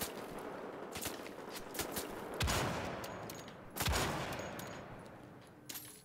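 Gunfire from a weapon in the video game Wolfenstein: The Old Blood, with several loud bursts and single shots that boom and then fade away over a faint background.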